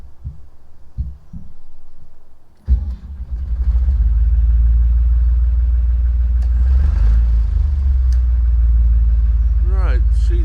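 A narrowboat engine turns over after a few low thumps, then catches and settles into a loud, steady diesel rumble that runs on close by.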